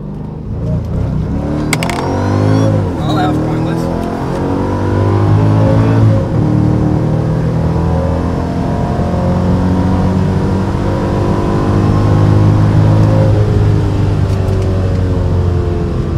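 A Mercedes SL55 AMG fitted with a custom intake accelerates hard through rising, sweeping engine notes that shift up through the gears, loud and close with a steady roar and no talk.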